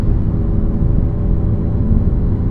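An Alfa Romeo Giulia Quadrifoglio engine rumbles steadily at a low, throaty pitch, loud and close, with no voices.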